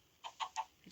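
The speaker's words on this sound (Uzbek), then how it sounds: "Tovuq." A Minecraft chicken makes three quick soft clucks in a short even rhythm, followed by a faint trailing sound, brief and quiet.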